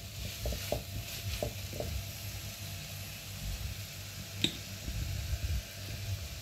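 Black pepper powder and crushed red chilli being stirred into a lasagna mixture, with a steady sizzling frying hiss throughout and a few soft scraping stirs near the start.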